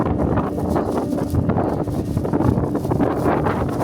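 Wind gusting outdoors in London on a mild day, a steady loud roar buffeting the microphone with rustling texture throughout, no speech.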